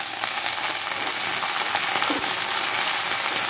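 Vegetable stalks are dropped into a pan of frying cauliflower, setting off a loud, dense, continuous sizzle that stays even throughout.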